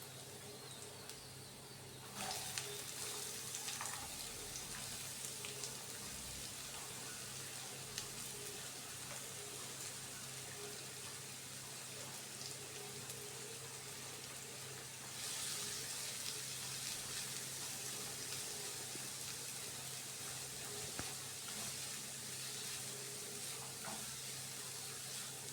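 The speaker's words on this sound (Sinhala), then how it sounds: "තෙල් ටික රත් වෙනකොට සුදු ලුණු ටික දාගන්නවා. ඒක චුට්ටක් තෙලේ පැදගෙන" Garlic frying in hot oil in a pan gives a steady, continuous sizzle that gets slightly brighter partway through, with no talking.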